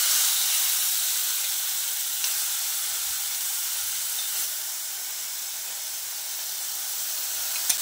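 Ground beetroot sizzles steadily in hot oil tempered with cumin and asafoetida, a continuous bright hiss and crackle of frying with faint stirring, no voices.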